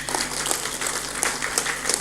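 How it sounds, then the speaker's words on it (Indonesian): An audience at a motivational talk claps in a steady wash of scattered hand claps, moderately loud and continuous over a low hum. "tepuk tangan buat kita semuanya."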